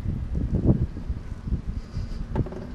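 Strong wind buffets the microphone in low, rumbling gusts, with a faint rustle behind it and no speech.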